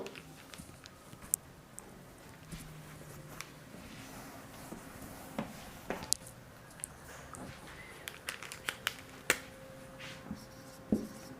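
Chalk or marker taps and scratches across a board while a math formula is written, quiet irregular strokes with several sharper clicks toward the end.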